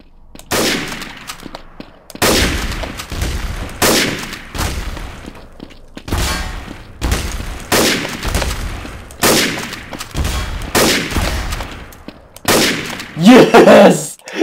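Gunfire in a Trouble in Terrorist Town round of a shooter game: loud, punchy shots come in repeated bursts every second or two, each cracking sharply and then tailing off, with brief quiet gaps between volleys.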